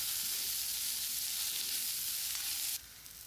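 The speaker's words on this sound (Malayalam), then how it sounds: "ഉള്ളിയും പച്ചമുളകും വഴറ്റാം." Onions and green chillies sautéing in a pan with tomato and ground spices for a Kerala jackfruit seed curry, a steady close sizzle and crackle throughout, no talking.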